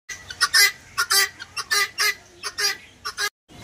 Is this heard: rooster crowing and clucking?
yes